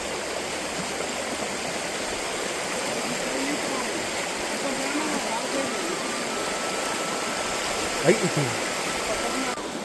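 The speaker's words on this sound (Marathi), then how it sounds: "पानी भरा हुआ ना, बहता पानी एकदम" Steady rushing of the fast-flowing Narmada river water fills the whole stretch, a broad continuous wash with a brief louder splash near the end.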